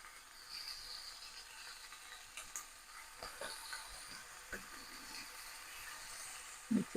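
Pancetta frying slowly in a pan on a low heat, giving a soft continuous sizzle and hiss with faint crackles and a couple of louder pops near the end, and no talk.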